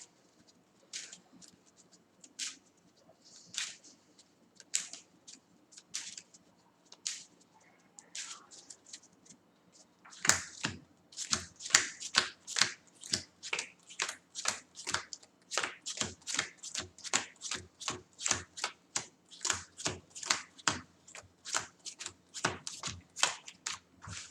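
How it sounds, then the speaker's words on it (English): Marvel Champions cards shuffled into separate piles, first with scattered light card snaps, then a long run of sharp, rhythmic riffle-and-bridge strokes repeating close up and loud. "you'll also shuffle them up into their own separate pile"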